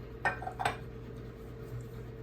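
Small bowl handled in a home kitchen while making sweet potato cobbler, giving two light clinks close by over a steady background hum.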